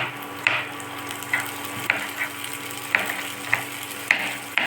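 Ingredients for Chettinad-style okra mandi sautéing lightly in a pan over a low flame, a soft steady sizzle broken by regular clinks of a stirring spoon, close and alone.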